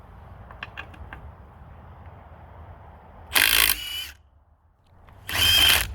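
A Milwaukee M18 FUEL 18V 3/8 in. mid-torque cordless impact wrench removes a car lug nut in two loud, close hammering bursts of about a second each, separated by a quiet pause.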